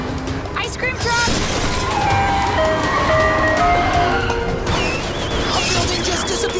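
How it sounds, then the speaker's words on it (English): An ice cream truck in a Hot Wheels cartoon plays its jingle amid a busy chase scene, the melody rising over engine noise and crashes, with characters talking over it. "Ice cream truck"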